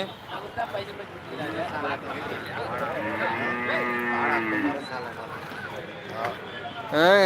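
Gir cattle low at a busy livestock market, one long drawn-out moo in the middle over crowd chatter and nearby voices, with a sharp knock at the end.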